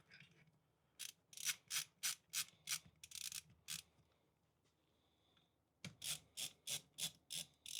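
A hand ratchet clicks in quick bursts of sharp strokes, a pause, then another run of clicks, close and crisp, while bolts are tightened on a Subaru WRX transmission during a six-speed swap.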